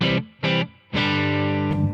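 Electric guitar through a light overdrive pedal into a 2-Rock amp with reverb, two short chord stabs then a sustained ringing chord with a reverb tail and a fresh strum at the end, loud and alone.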